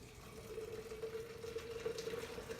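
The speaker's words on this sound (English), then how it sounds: "we're going to pour some boiling hot water in this can to get the rest of this out" Boiling hot water is poured into a beer kit can to rinse out the syrup stuck to its sides, giving a steady close trickle and splash with no talk.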